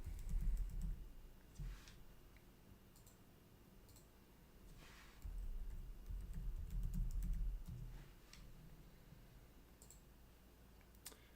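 Typing on a computer keyboard during a Windows Server Manager lab, with soft, quiet keystroke clicks in short bursts against a low background hum.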